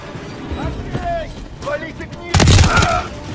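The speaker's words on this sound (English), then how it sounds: "There's enemy fire!" Gunfire in Call of Duty: Modern Warfare III erupts as a loud burst in the final second, following quieter game ambience with sporadic voice-like sounds.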